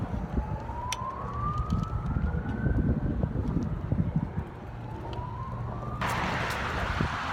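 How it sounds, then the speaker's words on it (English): Emergency vehicle sirens wail from a distance, rising sweeps repeating over steady outdoor traffic and wind noise, with a louder broadband rush near the end. "You can hear the sirens."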